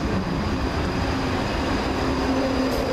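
A ScotRail unit 334021 electric train at High Street station in Glasgow gives a steady, close rumble with a faint tonal whine running throughout.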